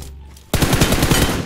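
Rapid automatic gunfire from a shooting video game erupts suddenly after a short quiet lead-in, then continues as a loud, dense, steady stream of shots.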